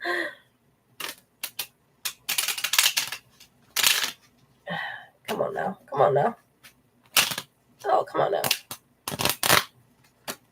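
Large tarot cards are shuffled by hand in quick, uneven riffling bursts separated by short pauses, close and fairly loud, with a person muttering between shuffles.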